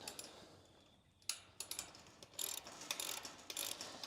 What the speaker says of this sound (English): Now to tighten this up, you're going to need a 19mm socket.